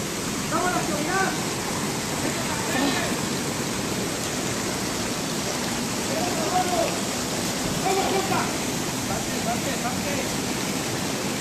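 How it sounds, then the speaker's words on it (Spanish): Rain falls near a waterfall in a steady, broadband hiss of water, with people's voices faintly audible underneath at a few points. "Ya está lloviendo."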